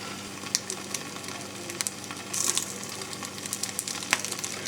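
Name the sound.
burdock and milkweed stir-fry sizzling in pan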